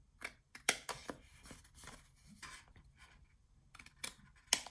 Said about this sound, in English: you're going to cut into that little line there, cut your other line